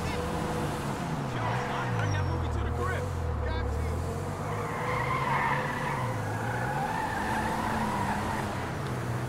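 A sports car in GTA 5 drives with a steady engine drone, tires skidding and squealing in rising and falling sweeps over continuous background game sound, with a voice talking over parts of it.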